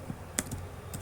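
A few quick keystrokes on a computer keyboard, close and quiet, with sharp isolated clicks in a short burst.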